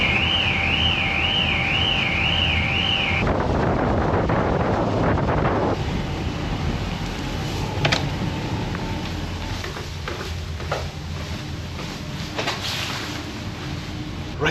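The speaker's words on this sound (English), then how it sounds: "The familiar sound of car alarms as we leave Lewis and Harris" Car alarms sound aboard a ferry leaving Lewis and Harris. A warbling siren plays at first, then choppy alarm chirps and clicks follow over heavy wind and engine rumble.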